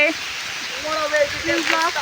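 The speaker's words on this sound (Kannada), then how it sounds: "ಮಳೆ ಜೋರಾಯ್ತು ಫ್ರೆಂಡ್ಸ್," Heavy monsoon rain pours steadily during a forest trek to a waterfall near Chikkamagaluru, a constant hiss under people talking throughout.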